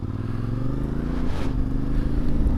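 A CFMOTO MT450 motorcycle rides off-road, its engine droning steadily and close by with a continuous mid-level hum and faint clatter, no voices over it.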